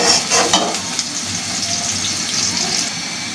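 Chopped taro and onion fry in a pan, a steady close sizzle with scraping stir noises in the first second, continuous and fairly loud throughout.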